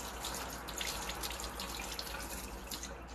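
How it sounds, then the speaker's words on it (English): Soap from a dish-wash bar being rinsed off under a running tap, a steady, fairly quiet stream of water with light splashing and no talking. "now let me rinse it off"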